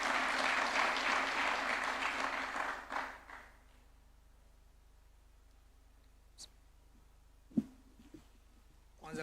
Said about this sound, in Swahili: Tumpigie makofi akija